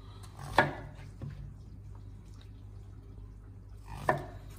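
A knife cuts mushrooms for ratatouille on a board with two distinct, crisp chops several seconds apart and faint taps between them, close and quiet against a low background hum.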